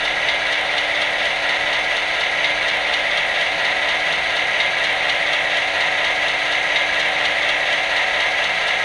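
MTH HO Ready-2-Rail GP38-2 model locomotive running at low speed step, a steady close mechanical whir and fine ratcheting gear buzz with no talk over it.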